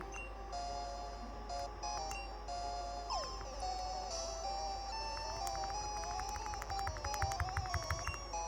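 Pokémon Blue plays its chiptune effects as a Roucoule (Pidgey) is captured: soft electronic beeps, then a falling swooping tone and a quick bleeping jingle of rising and falling notes. No one speaks.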